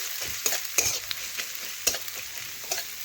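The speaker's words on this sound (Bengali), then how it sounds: "এই দেখুন পেঁয়াজটা একটু নাড়াচাড়া করে লাল লাল করে একটু ভেজে নেব" Finely chopped onion is stirred and fried in a pan for chicken gravy, with a continuous sizzle broken by repeated scraping and clacking strokes of the spoon against the pan, heard close and with no voices.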